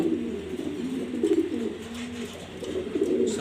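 Several pigeons coo in low, rolling, repeated calls close by, overlapping continuously with no talking.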